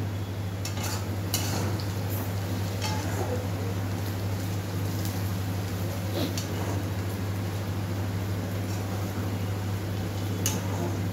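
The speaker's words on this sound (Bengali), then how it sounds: "পেঁয়াজটা ভাজা চলছে।" Onions frying in oil in a wok, with a steady sizzle and crackle and occasional clinks of a stirring spatula against the pan, carried over a constant low electrical hum.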